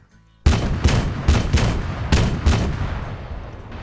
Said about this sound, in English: Yeah, it's a 70mm cannon